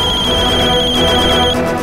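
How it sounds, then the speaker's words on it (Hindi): A phone ringtone rings loudly and steadily with a repeating electronic melody, close by and with no voices. "बारबी का फोन बज रहा है।"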